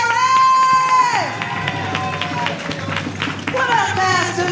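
An audience at a church session claps and cheers loudly, a bright held shout sliding down among dense applause, with scattered whoops and a voice over the clapping.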